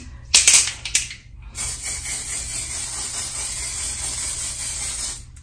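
A Dior Airflash spray can is shaken in a few quick rattling bursts, then sprays in one close, continuous hiss lasting several seconds.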